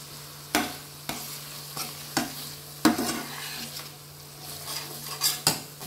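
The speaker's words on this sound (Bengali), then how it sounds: "এটাকে আমি 2-3 মিনিট মতো কষে নেব" Egg curry masala being sautéed in oil with salt: a soft continuous sizzle broken by regular metallic clacks of a spatula striking and scraping the pan, close and without talk.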